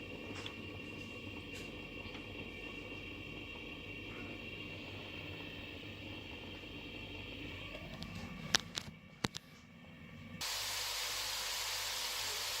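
Onions and spices for bhuna keema sizzle in hot oil, a steady broadband hiss close up that carries on evenly, with a few brief clinks near the end before the frying grows louder.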